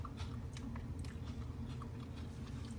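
Crisp crunching bites and chewing of seasoned fried dried pollock side dish, close and faint with repeated small crackles over a low rumble.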